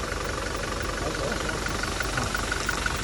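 A Toyota Innova Crysta with about 1.5 lakh km on it, engine running right after a carbon-cleaning treatment, gives a steady, close idling rumble with a faint knocking texture throughout.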